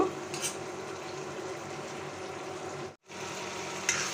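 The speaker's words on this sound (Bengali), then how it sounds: "মশলার সাথে লবণ দেওয়া আছে আমি একটু কষিয়ে নিব" Spices and salt with chopped tomato sautéed in a pan for a quick Bangladeshi egg curry, a steady close sizzle and crackle running throughout with a brief dropout near the end and a light clink of utensil.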